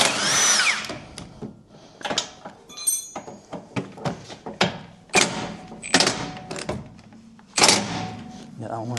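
Power tool loosening bolts on a Land Rover Defender 90 bumper in a workshop, with repeated short whirring bursts, clanks and metallic knocks close by, while people talk between them.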